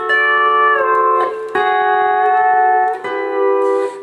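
Pedal steel guitar chords slide down the neck into an augmented shape with a half-raised A pedal, ringing sustained and close in three smooth swells, played alone.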